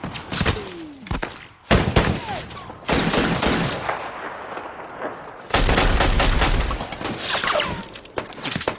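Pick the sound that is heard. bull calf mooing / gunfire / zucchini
gunfire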